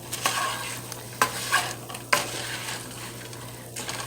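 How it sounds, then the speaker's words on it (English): Potatoes and cooked chorizo stirred in a frying pan for breakfast burritos, a soft sizzle with several distinct scrapes and clanks of the utensil against the pan. "And then what you want to do is stir it around."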